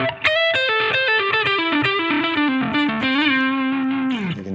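A distorted electric guitar runs a quick descending pentatonic phrase over a dominant seventh chord, with bright picked notes that end on a held tone that drops away.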